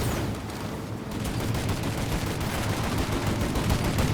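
Gunfire in the video game Mafia: Definitive Edition, a dense, continuous barrage of rapid loud shots and machine-gun bursts, with no talk.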